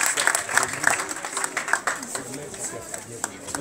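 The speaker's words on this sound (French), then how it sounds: "Vos applaudissements, s'il vous plaît." An audience at a ceremony claps in a moderate, scattered patter, with a voice speaking over the applause near the start.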